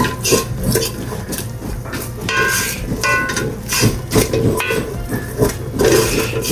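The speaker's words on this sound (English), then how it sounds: "And you want to keep stirring." A spoon stirs flour into softened onions in a pan to build a roux for gravy, giving a steady run of close scraping and light clattering against the pot, with no talk.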